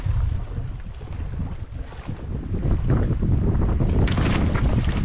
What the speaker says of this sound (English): Well, Ted's launching his boat.